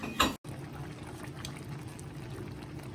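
Rice boiling in an electric cooker, a steady close bubbling and simmering hiss that runs almost continuously after a brief louder burst and a short gap at the start.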